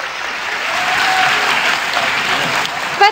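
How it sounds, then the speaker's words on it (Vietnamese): Studio audience at a live Vietnamese television game show applauds contestants: a dense, steady wash of clapping that holds at an even loudness for about three seconds before a brief bump at the end. "chúng tôi xin mời quý vị và các bạn hãy dành một tràng pháo tay ủng hộ cho họ được không ạ?"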